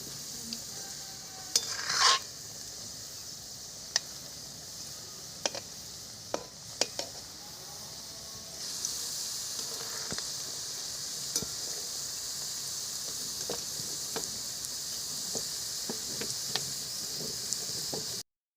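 Bhetki fish fingers fry in oil in a kadai, making a soft, steady hiss that swells louder partway through, broken by scattered clicks and taps as the pieces are rolled and turned.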